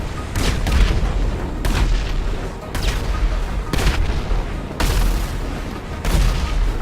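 Heavy booming explosions in GTA Online go off in a steady sequence about once a second, each a loud blast over a constant rumbling din.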